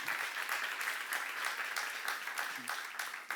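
Applause from a church congregation during a Bible seminar sermon, a steady broadband patter of many hands with no words spoken over it.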